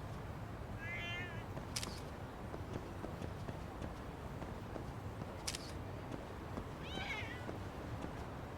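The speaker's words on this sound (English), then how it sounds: "I heard a cat." Cat meows heard in the video game Lost Judgment: two short, separate mews about six seconds apart over a busy town ambience with hoof-like clatter and murmuring.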